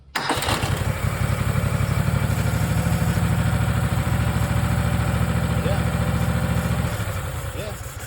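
A Kohler Command CH series small engine cranks, catches and then settles into a steady, loud, close idle with no surging. A throbbing low rumble carries on until it drops off slightly near the end.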